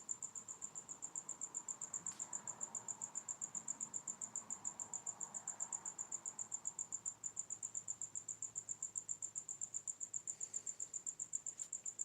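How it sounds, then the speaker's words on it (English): A night cricket chorus gives a continuous, even stream of rapid, shrill chirps throughout, steady and unbroken over faint background hiss, with no voices. "Now you can hear cricket, I think."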